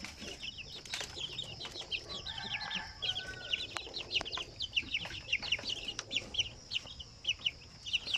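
Many native chicks cluck and chirp in a busy, overlapping chorus, with a brief burst of wing flapping early on; close and lively, no talking.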